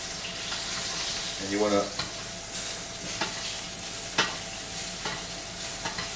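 Butter sizzles steadily in a pan while a spoon bastes it over beef, with periodic scrapes and clinks of the spoon; someone speaks briefly over the frying.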